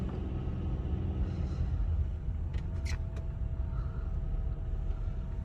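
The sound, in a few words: car driving and braking on a snowy road in Dallas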